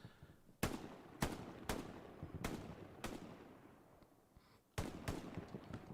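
Gunfire in the World War II shooter Hell Let Loose during an 18-versus-18 tournament match, a string of sharp, fairly distant shots spaced about half a second apart, a brief pause, then another quick burst.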